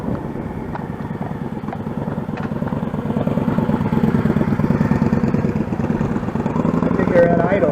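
A motorcycle engine idling at low speed during rider training, a steady close low rumble with a faint mechanical clatter that rises slightly near the end, with voices talking over it.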